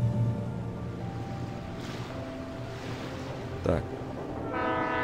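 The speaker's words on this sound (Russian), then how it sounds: "А, это мы на пароме едем, нифига себе." Ferry ride across water in Alan Wake Remastered: a steady low engine drone and water wash with a deep horn-like tone, music layered on top and a brief spoken word midway.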